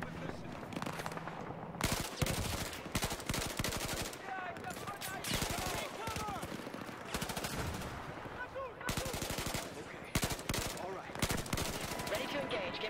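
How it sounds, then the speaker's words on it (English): Sustained M16 rifle fire in the Battlefield 4 video game, rapid loud bursts cracking almost continuously with brief pauses, layered over dense battle noise and other gunfire. "So we can get down here and I can get better shots with the M16."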